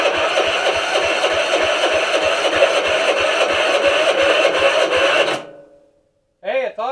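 An MTD 13A1762F029 lawn tractor engine cranks over on its starter, grounded directly, in a loud, steady chugging rhythm for about five seconds before cutting off abruptly. A brief voice follows.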